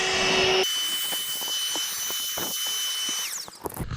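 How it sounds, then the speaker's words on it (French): Parkside 20 V cordless battery vacuum cleaner running close up with a loud, steady motor whine and airflow hiss, with brief shifts in pitch and a rattle of debris as it winds down near the end. "pour conclure sur ce petit aspirateur Parkside"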